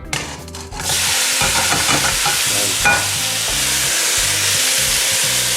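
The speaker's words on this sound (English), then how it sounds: "now I'm gonna put this into the pot and get it nice and brown" Beef hits a hot pot with bacon fat and sizzles loudly and steadily as it browns, with scraping and stirring clatter over the continuous frying hiss.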